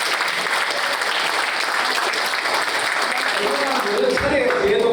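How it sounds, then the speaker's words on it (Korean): A Korean community policy meeting in Washington, D.C. breaks into audience applause. The clapping is dense and steady, filling a hall at constant loudness, and a voice rises near the end. "박수"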